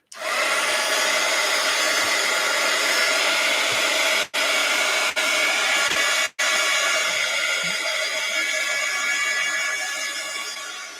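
A hair dryer blows steadily and loudly on a folded paper zine, a constant whirring rush that cuts out briefly twice around the middle before running on.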